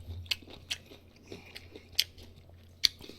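A mouth bites into crunchy chonggak radish kimchi during a mukbang eating show, producing several sharp, close crunches spaced irregularly over quiet chewing, with no talking.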